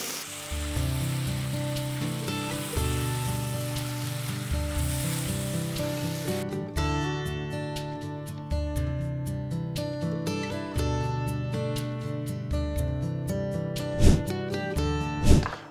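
Lobster fries in butter in a pan, a steady close sizzle running under a low humming background, with a couple of sharp clatters near the end.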